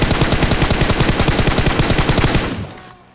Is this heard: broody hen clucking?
no